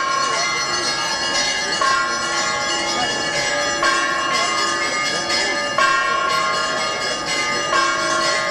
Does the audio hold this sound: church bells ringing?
yes